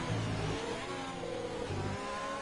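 A race car engine in a Russian GP racing game revs and drops in quick pulses, a mid-pitched buzzing whine that rises and falls twice over a couple of seconds, close and fairly loud.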